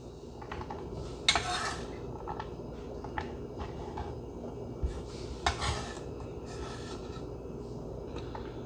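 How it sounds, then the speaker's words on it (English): Chopped onion tipped into a 16-ounce glass jar, bringing a few light clinks and scraping knocks of a utensil against glass, quiet and close, no speech. "the rest of the onion just goes straight into the jar"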